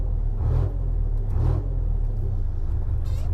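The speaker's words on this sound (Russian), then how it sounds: "Танк завели. Абсолютный звук танка." GAZ-39371 Vodnik armoured vehicle engine idling with a deep, steady rumble, close by, with slight surges in revs.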